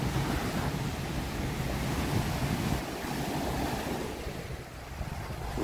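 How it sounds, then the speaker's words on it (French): Ocean waves break on a white-sand beach at Annaba, Algeria, a loud, steady surf roar with wind buffeting the microphone and a slight ebb near the end. "Je pourrais rester là toute la journée à regarder les vagues."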